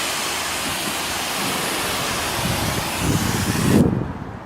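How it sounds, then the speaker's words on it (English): A loud, continuous spray of water hisses against a car windshield close by for several seconds, then cuts off abruptly near the end. "We'll spray some water on there."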